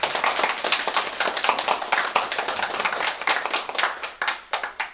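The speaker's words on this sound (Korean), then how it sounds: "우리 박수로 일단 환영해 주시죠" A church congregation claps in welcome, a dense burst of many hands applauding together that thins toward the end into scattered individual claps.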